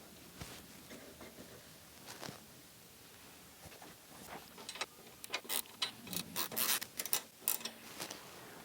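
A Santoro Fabworx bag guard being worked back and forth into place on a motorcycle, giving faint scattered metallic clicks and scrapes that grow into a denser, louder burst of rattling ticks toward the end, close by.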